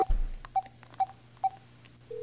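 Phone keypad tones from the video game Dark Fracture: four short, evenly spaced beeps about half a second apart, clear and close, ending in a steadier held tone over a low background hum.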